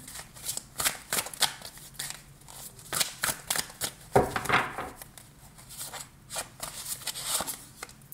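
Tarot cards being shuffled and drawn, with quick riffling bursts and soft slaps of card against card, close up and fairly loud, repeating in irregular clusters without any speech.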